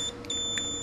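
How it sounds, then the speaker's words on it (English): A short, high electronic continuity beep from a Klein Tools MM500 multimeter sounds briefly from close by, with faint hum underneath. "Go into beep mode."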